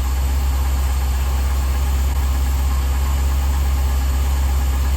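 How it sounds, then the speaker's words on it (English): A V8 engine fitted with Holley Terminator X Max EFI idles steadily around 900 rpm, a close, even low rumble with a faint knocking texture and no other sounds. "Idling at 900."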